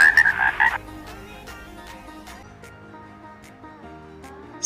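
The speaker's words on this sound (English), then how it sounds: "she was startled by a croak." A frog croaks from a bog, one loud throaty call up front followed by softer, repeated croaking pulses and chirps at an irregular rhythm, with no talking.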